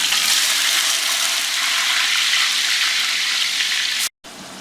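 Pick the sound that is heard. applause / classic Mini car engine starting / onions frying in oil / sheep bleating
onions frying in oil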